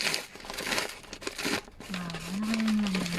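Paper wrapping crinkles and tears as a package is ripped open by hand without scissors, close and brisk in short bursts, followed by a steady low hum.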